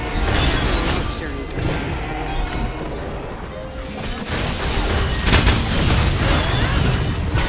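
A turret crumbling in the mobile battle arena game Honor of Kings, heard as a loud sustained crash of smashing and rumbling booms, with spoken game announcements over the din.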